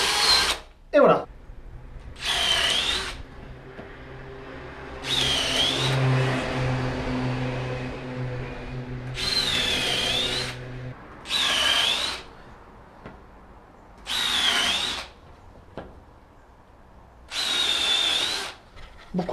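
A power drill with a concrete bit bores through a larch decking joist and into concrete, in repeated loud bursts of whining, grinding drilling separated by short pauses, with a steady hum running under the middle section.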